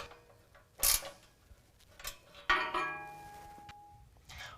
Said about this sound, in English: Then we'll hold that tight with a 13 millimeter at the bottom and tighten it up with a 13 millimeter on top.